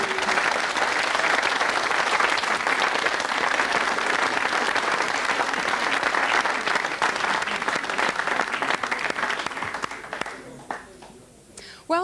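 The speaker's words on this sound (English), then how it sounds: "Give him a round of applause." A television studio audience on a late-night live show bursts into loud, sustained applause that fills most of the moment before tapering off near the end.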